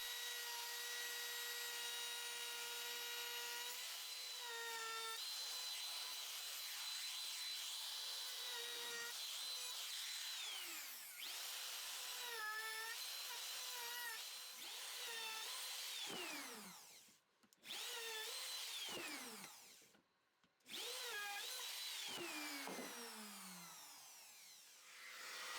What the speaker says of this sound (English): Using the router, I'm adding a 45-degree chamfer to all the edges.